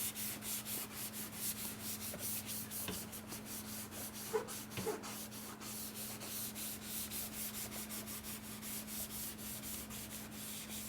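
A hand block wet sanding primer on a car body during dent repair, with steady rhythmic back-and-forth rasping strokes close up, fairly quiet, under a constant low electrical hum.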